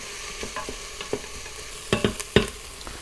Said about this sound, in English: See how nice of a job the Instant Pot does for sauteing onion and garlic?